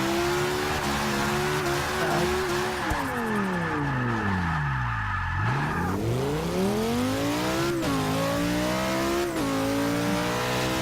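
A race car engine in Forza Motorsport 6 revs down through the gears, then climbs back up in pitch with rising acceleration, a loud continuous whine with a brief drop-off mid-clip.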